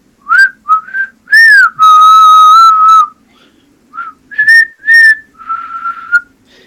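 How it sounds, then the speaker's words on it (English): An eerie whistled tune of short and long wavering notes, some sliding, with a pause midway, loud and close with no other sound. "and you just hear this whistling."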